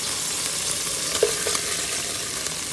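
Onions and steak drippings hiss in a hot pan with a steady, dense sizzle, broken by a few soft clinks and stirring scrapes partway through.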